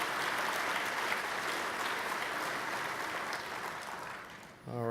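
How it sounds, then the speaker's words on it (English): Big round of applause from the audience at an annual meeting, dense continuous clapping filling the room for nearly five seconds before fading just as a voice begins. "let's give them a big round of applause"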